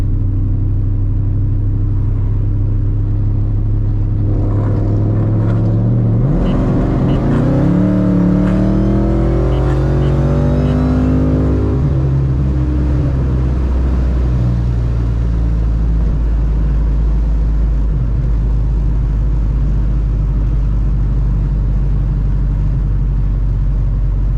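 A Kenne Bell 3.2L supercharged Ford Mustang S550 with a 10-rib setup accelerates hard under full throttle, its engine climbing loud and close through several seconds before the roar settles into a steady rumble.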